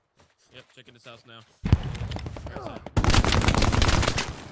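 Machine gun fire in the WWII shooter Hell Let Loose, starting after a brief spoken line and building into dense, loud rapid bursts with mixed gunfire through the rest of the clip.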